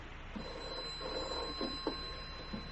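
A telephone rings faintly in a quiet room in a radio drama, with a soft, sustained electronic ring tone and a few light knocks and movements.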